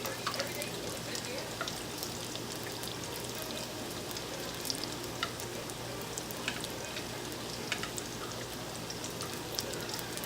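Dough beignets deep-frying in hot oil, a steady close sizzle and crackle with occasional sharper pops, continuing without a break.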